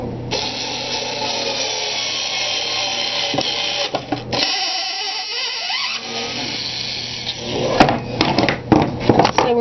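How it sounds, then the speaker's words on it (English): A power drill pre-drilling holes in wood for a soap mold box whirs close and loud for several seconds, with clattering and handling knocks toward the end. "So we're just pre-drilling it so that we're not going to crack our wood."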